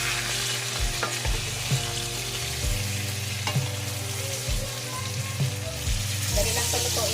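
Fish steak, blue marlin, sizzles steadily in a hot pan, with occasional clinks and scrapes as the pieces are turned; continuous close frying with no talk.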